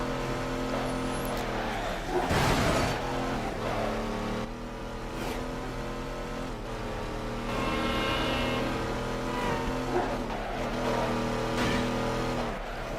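Midnight Club 3 car engine revving during a replay, a loud close engine tone rising and falling through gear changes with occasional sharp whooshes, steady throughout.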